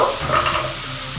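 Spice masala frying in a pan while being stirred, a dense continuous sizzle with scraping stir noises close by, alone without talk.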